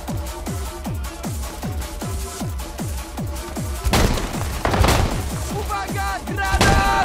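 Rapid bursts of gunfire in the video game World War 3, steady repeated shots with a few heavier blasts mixed in, loud and close.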